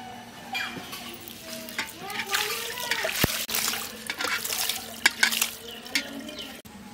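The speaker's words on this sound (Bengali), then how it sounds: "আর একবার জল দিয়ে ধুয়ে নেব।" Forest potatoes are washed in water, giving close splashing, swirling and sloshing sounds with bubbling gurgles and occasional knocks, continuous and moderately loud.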